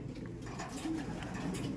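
Soft, low cooing of pigeons, close by and continuous over a faint background hum.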